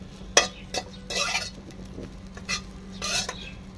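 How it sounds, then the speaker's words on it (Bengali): Bread pieces are stirred in a hot wok with the flame off to crisp them, giving a series of sharp scraping clinks of the spatula against metal, close and irregular over a faint low hum. "গরম কড়াইয়ে আমি একটু নেড়ে চেড়ে একটু মচমচে করে নিচ্ছি"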